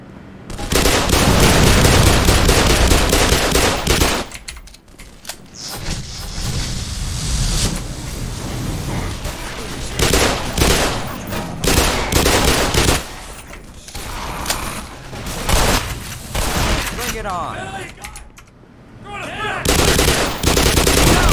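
Gunfire in the Black Mesa video game, with dense bursts of rapid automatic shots and heavy blasts that come in loud waves, with short lulls between clusters.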